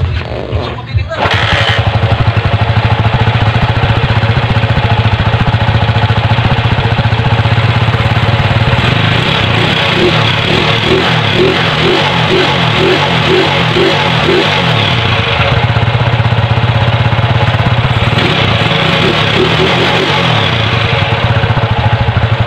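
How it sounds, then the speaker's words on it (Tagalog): A Honda CG motorcycle engine idles while warming up, with a loud, steady, close rumble and a rhythmic mechanical clatter. It runs continuously after starting, with slight changes in tone along the way. "I-warm up muna natin yung ating motor,"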